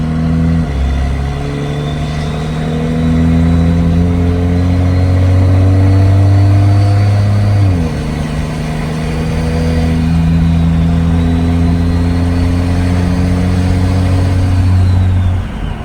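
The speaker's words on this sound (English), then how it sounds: "we're just going to give her some throttle and that's it, nothing too crazy." A 6.7 Cummins diesel swapped into a 2nd Gen Mega Cab truck revs up under light throttle, a steady deep engine drone rising in pitch with a faint turbo whistle above, loud and close, with one brief dip midway.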